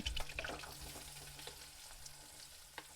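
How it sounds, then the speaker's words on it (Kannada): Onions frying in oil with cumin and green chillies for egg rice, a faint, close sizzle with crackles and light stirring clicks running steadily throughout. "ಉಳ್ಳಾಗಡ್ಡಿ ಹಾಕೊಂಡು ಚೆಂದಾಗ ಫ್ರೈ ಮಾಡ್ಕೋಬೇಕು"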